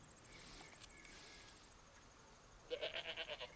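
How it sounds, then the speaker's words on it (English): A female goat bleats in a quick series of wavering calls near the end, after a quiet stretch with a faint insect-like hum in the background. "Is that your goat?"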